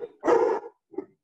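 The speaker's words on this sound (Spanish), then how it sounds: "Hay un perro y todo ahí ladrando." A dog gives one loud bark close by, followed by a softer short yelp, in a quiet room.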